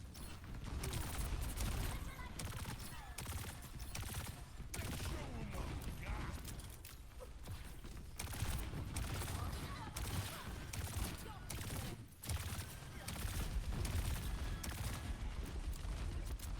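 Juno's missiles fire in the hero shooter Overwatch 2 amid busy team-fight sounds, with rapid bursts of launches and impacts in quick succession and a few short pauses, under faint voice chatter.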